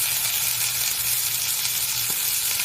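Chicken browning in a pan for one-pan Italian chicken gives a steady, close, even sizzle throughout, with no talking.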